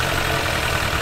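A Jawa 300 CL motorcycle engine idling close by, a steady unbroken low rumble with an even putter and no voices.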